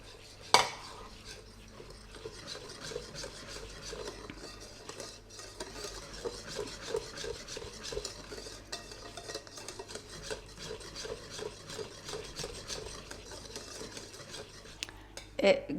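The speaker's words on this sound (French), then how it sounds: "Donc on n'a plus qu'à y ajouter notre beurre fondu." Melted butter being stirred into apple cake batter in a bowl, giving a steady scraping and clinking of utensil against the bowl throughout, with a sharper knock near the start and end.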